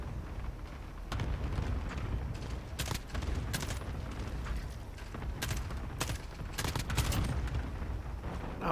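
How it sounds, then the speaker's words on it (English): Cluster strike in the video game Modern Warfare: a string of explosions and sharp cracks pounding irregularly over a constant rumbling battlefield roar, several loud hits near the end. "Cluster strike."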